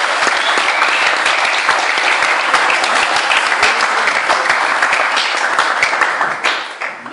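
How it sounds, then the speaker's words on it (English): An audience gives warm, steady applause to welcome a speaker at a speech event, continuous dense clapping for several seconds that thins and fades near the end. "I would like to welcome and give a warm applause to Onno"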